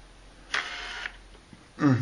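Nikon 70-210mm f4 lens autofocusing on a D7000 body: two short, faint whirring focus motor runs close to the microphone, separated by quiet, then a louder thump near the end.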